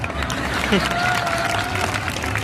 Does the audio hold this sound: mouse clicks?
no